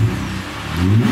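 A Ford AU Falcon engine revs hard, loud and close, a steady low rumble swelling again near the end of the roughly one-second burst, with no voices.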